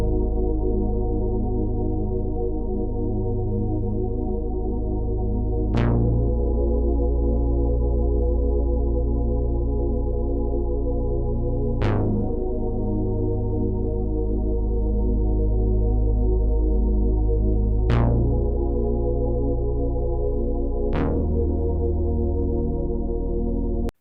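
Dreamy late-night R&B synth patch from the Mini V3, three layered sounds played dry with no effects: sustained warm chords with a thick low end, changing every six seconds or so with soft attacks, steady and alone with no talk.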